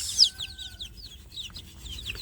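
Native village chicks and their mother hen in a box give off a busy stream of high, quick peeps and chirps, with a few soft low clucks underneath, close and moderately loud.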